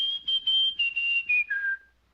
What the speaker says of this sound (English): Whistle for me, baby.